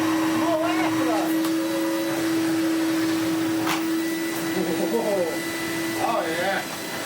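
A Goblin Omni 1000 vacuum cleaner runs steadily close by with a constant motor whine, with faint voices and small thumps over it.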